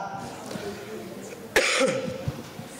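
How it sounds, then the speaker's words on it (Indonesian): A single sharp cough stands out close by in the middle, amid a quiet room with faint background voices. "Karena saya batuk"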